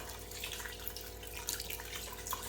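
Water pours into a pot of potatoes for pressure cooking, a faint, close trickle and splash continuing evenly for a couple of seconds with soft drips, no speech.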